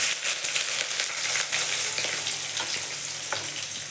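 Onion dropped into hot oil right after mustard seeds splutter, for a tomato thokku, producing a dense, loud, continuous sizzle close up with a few sharper crackles and no speech.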